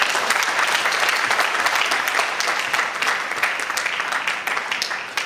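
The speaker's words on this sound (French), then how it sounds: "Applaudissez s'il vous plaît." Wedding guests break into sustained applause during a ceremony, a dense, steady wash of many hands clapping close by that holds at full strength for several seconds and tapers slightly at the end.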